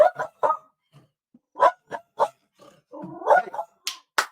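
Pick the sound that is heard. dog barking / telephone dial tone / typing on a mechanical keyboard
dog barking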